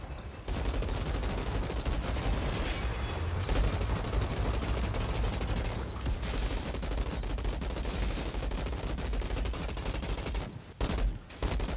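Sustained rapid gunfire in the video game Outriders, aimed at a tank, rattling loud and dense for nearly the whole stretch with only a brief break near the end.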